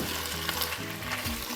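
Beef strips fry with sauce in a pan for a peppered steak stir fry, a loud, close, continuous sizzle with a low bubbling undertone.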